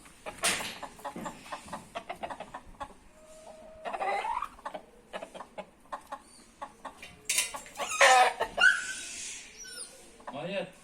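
An Indian Asil rooster and his hens cluck and call in a farmyard pen, in bursts of close, sharp clucks with a longer crowing cry, while a person talks over them.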